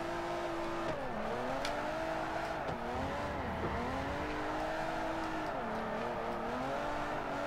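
A Volvo 242 built as a drift car in Forza 4 holds a loud, steady engine drone with revs rising and dipping through corners, plus faint tire squeal, continuous throughout.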